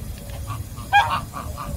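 Goose honks come in a short burst, one louder call standing out amid softer nearby honking, fairly close, with no speech.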